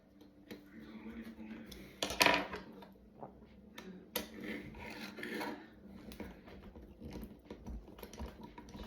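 A screw is driven by hand into an Altaya Optimus Prime model kit, giving a stiff intermittent rasping and scraping, with a louder burst of grinding partway through and small clicks between turns.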